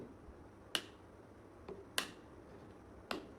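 Three sharp, dry flicks of a finger against a bar of soap, spaced about a second apart, each a crisp snap-like tap against quiet background hiss, with a fainter tick between.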